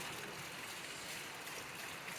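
Heavy rain falling over a hill village, a dense continuous wash of noise that stays steady and even throughout, with no one talking.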